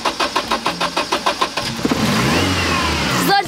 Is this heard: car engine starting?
yes